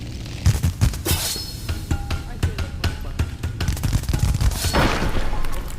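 Rapid gunfire from the video game Animal Company, with bursts of sharp shots and booming impacts crackling loudly and close, repeating in uneven volleys throughout.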